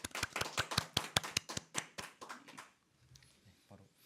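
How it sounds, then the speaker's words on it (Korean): A small audience gives scattered, distinct hand claps to welcome a pastor presenting on ecological ministry. The claps are sharp and fairly close, then thin out and stop midway, followed by quiet room sound. "오늘 발표하시는 목사님 큰 환영의 박수"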